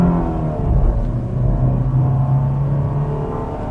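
A Mercedes-Benz 220CE W124 coupe's four-cylinder engine pulls hard under acceleration, a raucous, steady rumbling drone heard from inside the car with a slowly rising tone and no talking.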